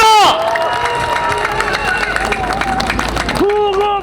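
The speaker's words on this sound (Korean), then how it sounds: "여러분 큰 박수로 맞아주시기 바랍니다" An election rally crowd claps and cheers in a loud, dense wash, with a voice over a loudspeaker at the start and end.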